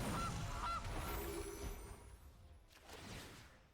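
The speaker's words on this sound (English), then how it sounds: "Goose." A cartoonish goose honks twice in quick succession in Magic the Gathering Arena, loud and near, followed by a fading whoosh and faint rustle of game effects with no talking.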